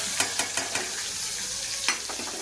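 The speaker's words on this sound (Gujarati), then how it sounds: "તો જો અત્યારે હું આની અંદર હવે ટમેટા વઘારવા જઈ રહી છું" Tomatoes frying in hot oil in a pan for bitter gourd curry, a steady sizzle with a quick run of four spatula taps and stirring knocks, then one more later, no voices.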